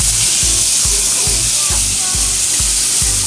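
Flank steaks sizzle loudly on hot upturned charcoal grill grates with avocado oil, a constant close-up hiss and crackle over a rhythmic low thumping pulse that repeats steadily.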